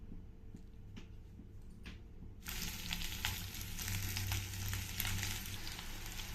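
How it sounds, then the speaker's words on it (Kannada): Mustard seeds are tempered in about two spoons of hot oil. Quiet at first, the clip bursts into loud, dense sizzling and crackling about halfway through, and the frying continues steadily to the end. "ಈಗ ಅದಕ್ಕೆ ಸಾಸಿವೆನ ಹಾಕ್ಕೊಳ್ತೀನಿ."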